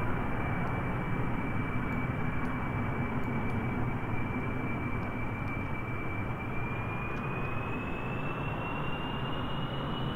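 An aircraft engine hums at partial throttle in Kerbal Space Program, a steady, even drone with a faint rising whine, continuous and unchanging for the whole stretch, with no voices.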